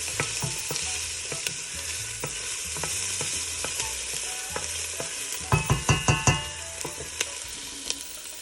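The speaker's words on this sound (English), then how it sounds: "So you want to make sure you brown the onion first." Half an onion browning in a pot for Italian red sauce, a steady sizzle under occasional stirring scrapes, with a quick run of five louder scraping strokes near the end.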